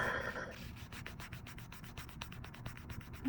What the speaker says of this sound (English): So just by doing all these filing steps, you can shine your own nail.